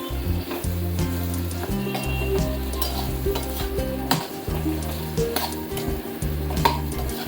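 Jaggery pieces stirred and fried in a pan for mango pickle, a steady close sizzle with scraping stirring strokes and occasional clinks of the spoon against the pan.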